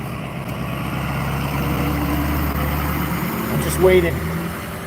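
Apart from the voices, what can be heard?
big truck with loud engine driving past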